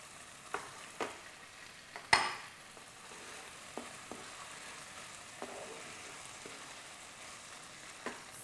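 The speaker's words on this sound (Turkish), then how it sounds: "Salçamı önden iyice kavuracağım." Tomato paste and garlic fry in a pan with a soft, steady sizzle, broken by occasional clicks and scrapes of stirring, close and fairly quiet.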